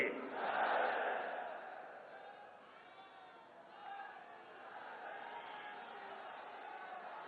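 Crowd at a political rally in Lucknow cheering and chanting slogans, a loud roar that fades and then settles into a sustained murmur of massed voices and clapping.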